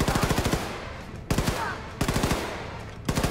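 Submachine gun fire in Wolfenstein 2, several short rapid bursts of close, punchy shots separated by brief pauses and echoing tails.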